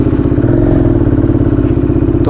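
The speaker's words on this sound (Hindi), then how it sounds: "तो बाइक को कर दिया स्टार्ट" Bajaj Dominar 400 motorcycle fitted with an Akrapovic exhaust, running: a loud, close, steady low-pitched engine thrum with a rapid pulsing beat from the exhaust, continuous and alone without speech.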